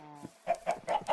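Chickens in a video game farm cluck close by, giving four quick, evenly spaced clucks after a soft tonal note.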